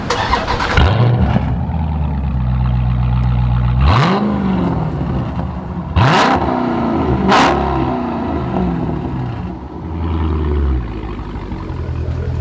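A Dodge Charger Scat Pack V8 cranks to life and revs several times, loud and close, each sharp throttle blip rising and falling back to a deep rumbling idle.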